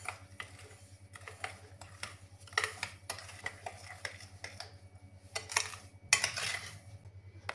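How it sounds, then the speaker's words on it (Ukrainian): A spoon stirring sugar into sour cream, giving a run of quick scraping clicks and taps against the bowl, close and fairly quiet, steady with a few sharper knocks, over a low background hum. "Тепер потрібно це все перемішати і далі, щоб сахар розстав"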